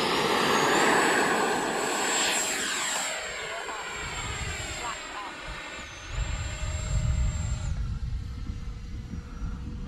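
An X-Fly Sirius RC model jet fitted with a K&M afterburner roars as it flies past, a loud turbine whine with a steady high tone that rises and falls. Someone talks over it.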